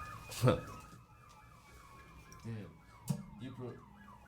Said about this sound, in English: that was a fire truck and a police car.